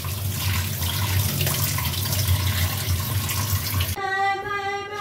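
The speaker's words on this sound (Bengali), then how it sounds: "আবার ঠান্ডা জলেও ভালো করে ধোবো। ধুয়ে নিচ্ছি।" Tap water runs and splashes steadily into a kitchen sink while drumstick flowers (sajne phool) are rinsed under it, loud and continuous, then cuts off abruptly near the end.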